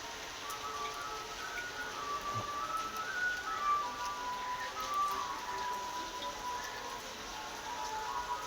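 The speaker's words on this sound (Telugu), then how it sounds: "మొలిమొబ్బారి నిబ్బరంగా ఊరుస్తుంది వాన" Steady rain falls over a village during a storm, a soft continuous hiss of drops with a few brief louder taps, no voices, evenly spread and moderately near throughout.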